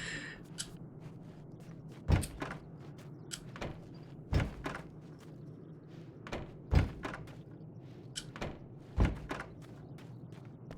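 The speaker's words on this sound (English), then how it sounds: "It's a very well-made wooden door," A wooden door in the video game Alan Wake's American Nightmare gives repeated heavy thunks every couple of seconds, each with lighter knocking clicks between them, close and fairly loud.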